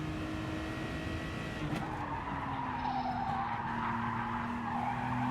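Race car engine revving hard in a racing video game, a sustained loud whine with shifting pitch alongside continuous tire skidding and squeal, no voices.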